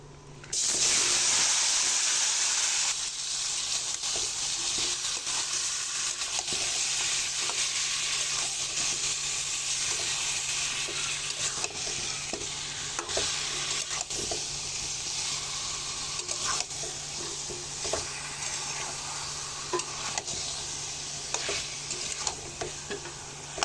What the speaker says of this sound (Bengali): কড়াইটা খুব ভালো করে গরম হয়ে গেছে এবার আমি চিকেনটা দিয়ে দেবো